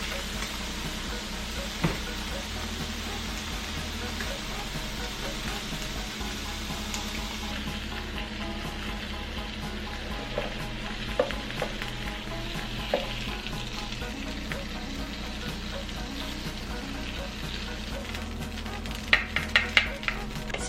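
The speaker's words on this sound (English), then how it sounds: "Now I'm gonna bring it over to my George Foreman." Balsamic steak rolls sizzle on a George Foreman grill, a steady close frying crackle throughout with occasional sharper pops and clicks near the end.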